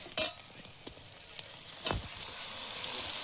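Pieces of eel (kuche fish) frying in hot oil, a steady close sizzle with a few sharp spatters and pops near the start, then a continuous even hiss, with no voices.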